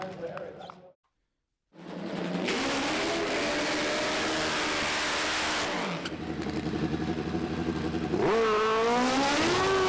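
FIM Top Fuel drag racing motorcycles blast off at a final round, a loud, sustained engine roar that starts after a short silence and climbs in pitch near the end, with a commentator talking over it.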